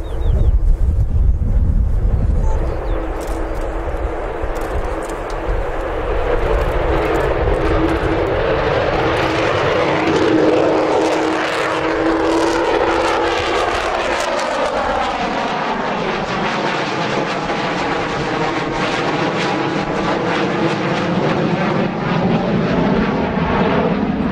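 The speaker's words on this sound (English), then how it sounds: "Beautiful aircraft, beautiful sound, and we're lucky enough in the UK to have one flying again this year" An Avro Vulcan bomber flies past in the UK, its engines a loud, sustained roar that swells and then recedes with a shifting, Doppler-like tone and some wind buffeting on the microphone.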